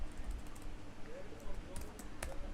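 Computer keyboard being typed on while entering Python code for a Flask web app, heard as quiet, rapid, irregular key clicks close by over a low background hum.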